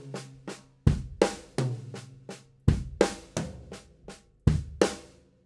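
A drum pattern played across a snare and 10-, 12- and 16-inch toms, with about a dozen sharp, resonant hits in an uneven, syncopated rhythm, close and loud with no voices.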